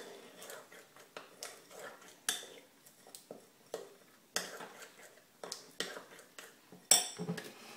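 A spoon clinks and scrapes rhythmically against a bowl while ingredients for a single-serve healthy cookie are mixed, a quick repeating pattern of close, light taps.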